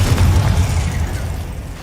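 A Confringo explosive spell in Hogwarts Legacy on PS5 booms with a heavy low rumble that starts loud and close, then slowly eases off over about two seconds, with no voices.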